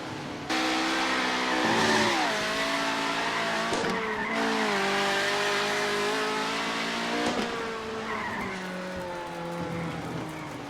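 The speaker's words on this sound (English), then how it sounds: "the car just goes into limp mode when you run out of fuel" A race car in limp mode after running out of fuel in the video game iRacing Arcade, its engine droning with wavering revs, accompanied by tire squeal and skidding, loud and continuous throughout.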